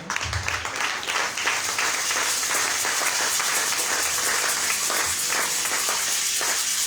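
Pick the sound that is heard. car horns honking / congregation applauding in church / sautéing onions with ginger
congregation applauding in church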